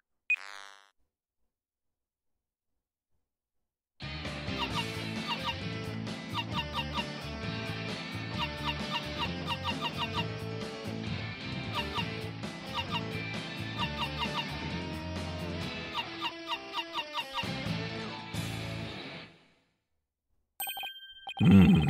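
A song from Ace Attorney: Dual Destinies plays back as a cell phone video recording, a steady melodic tune running for about fifteen seconds after a brief silence, then cutting off with a short burst at the end.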